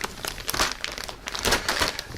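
A large plastic bag holding FineMolds 1:48 Savoia S.21F model kit sprues crinkles and rustles, close and loud, in quick irregular bursts of crackling.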